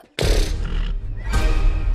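A spirited horse in a barn lets out two loud, close neighs, a long whinny followed by a brief pause and a second rising call.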